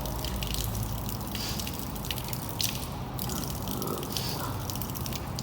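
Water running and splashing steadily during ablution rinsing of the mouth, a continuous close tap flow with dripping and gurgling textures.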